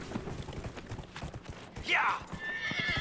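Video game hooves clip-clop rapidly, then a horse whinnies loudly before the galloping continues, with a faint mechanical creak in the background.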